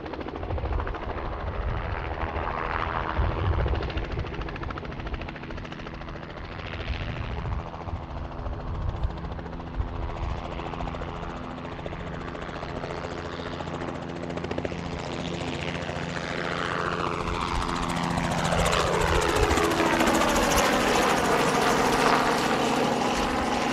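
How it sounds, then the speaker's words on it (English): A Robinson R44 helicopter flies near Boeing Field, its rotor chop and engine drone holding steady and fairly close, then shifting in pitch as it moves past, with no voices over it. "There's our helicopter."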